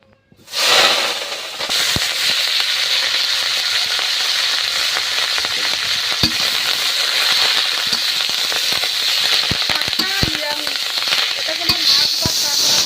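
A loud, steady sizzle of leafy greens frying in a hot pan, with crackles and pops scattered through it and no talking.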